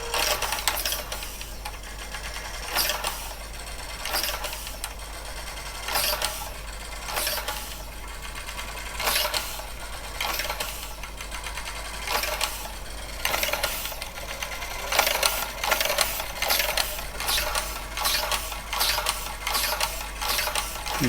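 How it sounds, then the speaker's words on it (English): HP 9120A printer printing, a repeating mechanical chatter of print-head strikes and carriage movements in rhythmic bursts, steady and close, running continuously without speech. "So you probably can't see it, but it is actually printing."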